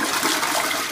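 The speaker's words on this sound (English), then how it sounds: "The toilet has two buttons for flushing. It has one on the right side and one on the left side. I'm gonna push the left one." A Kohler dual-button toilet flushes with its left button, a loud close rush of water that fills the whole moment without pause.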